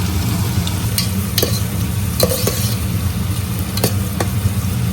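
Chopped onion going into a hot pan with garlic and ginger for a mutton dish, a steady sizzle broken by a few sharp spatula clicks and scrapes.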